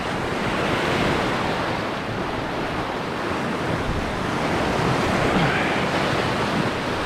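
Ocean swells breaking over a reef along a rocky shoreline, a steady broad roar of surf with gentle surges and some wind buffeting the microphone, continuous and fairly loud throughout.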